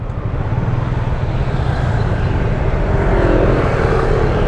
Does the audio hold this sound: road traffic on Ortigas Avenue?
yes